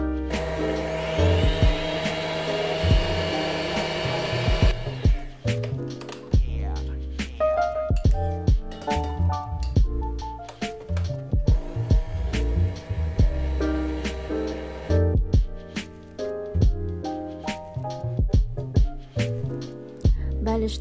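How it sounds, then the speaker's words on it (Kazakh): A hand blender whirs loudly in bursts, beating custard cream with a spoonful of butter for a Karpatka cake, with clattering knocks and pauses between runs, close by and without speech. "Заварной кремге 1 қасықтан сары майымызды қосып, жақсылап блендермен шайқаймыз."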